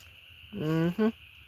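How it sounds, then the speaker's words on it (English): An owl calling at night from around nearby trees, a clear two-part hoot, a longer note followed by a short one, close and fairly loud over a steady hum of insects. "That's an owl, ladies and gentlemen."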